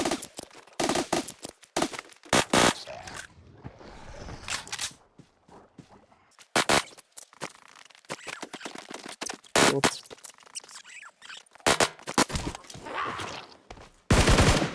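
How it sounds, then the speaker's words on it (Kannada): Gunfire in the Zombie House video game, with loud shots in irregular bursts and single cracks over several seconds, separated by quieter gaps. "ಸಿಂಗಲ್ ಬುಲೆಟೇ ತಲೆಗೆ ಹೊಡಿತಾ ಇದ್ದೀನಿ"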